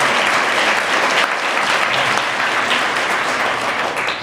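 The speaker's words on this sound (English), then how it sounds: "let's give Desert Mission a round of applause" At a food bank conference, the audience breaks into loud, close applause for Desert Mission, a thick unbroken roar of clapping that lasts the whole four seconds and thins slightly at the end.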